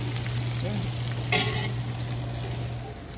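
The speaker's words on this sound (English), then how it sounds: "we're browning up pretty good right here" Meat and onions browning together in a pot for a Cajun pastalaya, giving a steady close sizzle and fry with a brief scrape of stirring partway through and a low hum underneath.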